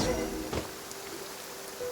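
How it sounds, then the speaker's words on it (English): Steady rain downpour in the video game Genshin Impact, a continuous soft hiss of falling water with a faint tonal hum underneath and a brief louder patter midway. "Taking a stroll in the middle of a downpour certainly rouses the spirit."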